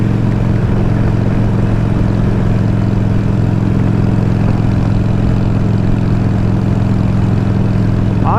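Motorcycle engine running steadily, a loud continuous low drone with no breaks and no talk over it.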